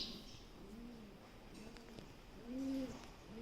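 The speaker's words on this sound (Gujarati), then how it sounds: "ક્યાં કબૂતર બોલે છે." A pigeon coos at a home during Diwali cleaning, giving a few soft, rounded calls, with a fuller, louder coo near the end over a quiet background.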